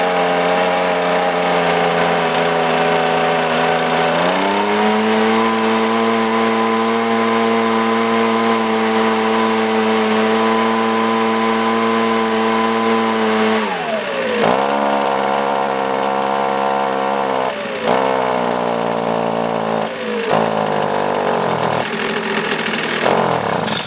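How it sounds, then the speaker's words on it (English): A gas-powered Echo or Toro leaf blower engine runs loud and close the whole time, holding a steady drone before its pitch drops and wavers through several throttle changes near the end. "Pull handle until engine runs,"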